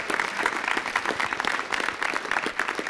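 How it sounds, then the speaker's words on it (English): A city council chamber audience claps steadily for a firefighter paramedic being honored, a dense, even round of applause that runs for the full few seconds with no voices over it. "Let's give him a hand clap"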